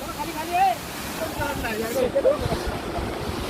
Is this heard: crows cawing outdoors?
no